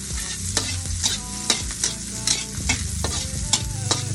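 Garlic and onion sauté in hot oil, a bright crackling sizzle punctuated by repeated sharp clacks of a utensil stirring against the pan, close and without any talking.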